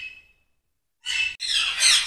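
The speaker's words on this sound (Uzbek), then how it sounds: "Bu yoqda katta qushlar asosan jako, kakado, shunaqa qushlar boqilgan." Large captive parrots such as African greys and cockatoos at a big bird breeding farm let out harsh, loud squawks, a brief faint call first, then two bursts of close, raucous screeching.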